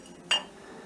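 A bottom piece of a 1960s–70s Carnival glass butter dish, Indiana glass, gives a single short glassy clink as it is handled, bright and close against a quiet background.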